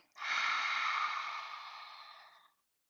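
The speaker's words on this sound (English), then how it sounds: "Open your mouth, exhale." A single long open-mouth exhale during yoga breathing, a soft breathy rush that starts abruptly, holds, and tapers away over about two seconds, close and quiet with no talk.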